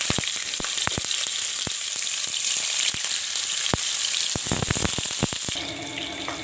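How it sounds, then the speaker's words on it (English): Tofu frying in hot oil in a frying pan: a loud, steady sizzle with scattered sharp pops and crackles, calming slightly near the end. "heat the oil in frying pan with the fire on, then add the tofu and fry the tofu."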